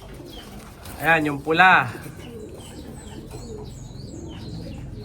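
Pigeons cooing close by in a loft setting, two short throaty calls in quick succession, with someone speaking briefly and faint chirps in the background.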